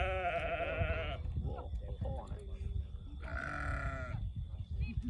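Sheep in a field bleat loudly at close range, with one long quavering call at the start and another a couple of seconds later, over constant rumbling background noise.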